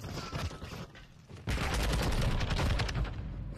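Rapid automatic gunfire from a weapon in Call of Duty: Modern Warfare 2 ranked play, with quieter bursts at first before a dense, loud, continuous stream of shots takes over.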